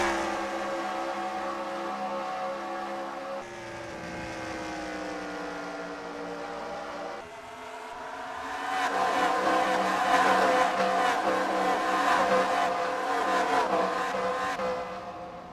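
Race cars in the NR2003 racing game at Phoenix roar past in a continuous engine drone that swells louder partway through as the field flies by, with no voices.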